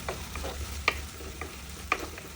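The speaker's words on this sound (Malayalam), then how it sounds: "അപ്പോൾ ഉള്ളി പെട്ടെന്ന് മൂത്ത് കിട്ടും." Onions frying in oil in a pan for a Kerala coconut milk fish curry: a low, even sizzle with a few light taps and scrapes of a spoon stirring, two sharper clinks standing out.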